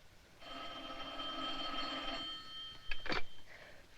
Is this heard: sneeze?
no